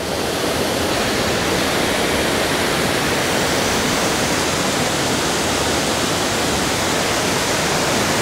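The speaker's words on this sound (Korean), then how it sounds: "흐르는 물이죠." A mountain stream at Biseondae in Seoraksan rushes over rocks in a loud, dense, unbroken roar, heard up close with no voices.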